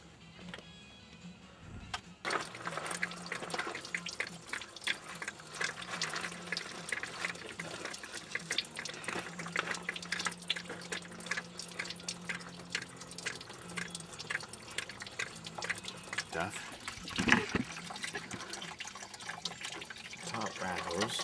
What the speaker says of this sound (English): I'm just gonna pop that open and drain all the fluid out from there.